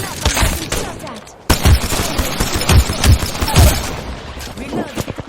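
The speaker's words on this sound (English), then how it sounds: "Listen up, I'm getting shot at." Gunfire in Apex Legends, a loud close barrage of irregular shots and bursts that drops out briefly and then resumes in quick clusters, with a voice speaking over the action.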